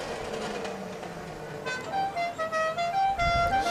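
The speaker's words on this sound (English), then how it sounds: "Oh, look, we have got a fleet of pickup trucks coming." A horn honks repeatedly in short pulsing blasts as a fleet of pickup trucks, including a Chevy Cheyenne, rolls past in the Classy Chassis Parade 2017, loud and close over engine rumble and street noise.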